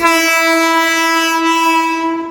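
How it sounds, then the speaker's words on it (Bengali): A loud, sustained train horn blares steadily for a couple of seconds, close by, then begins to fade. "তার সাথে সাথে অন্য ট্রেন আসছে দেখো"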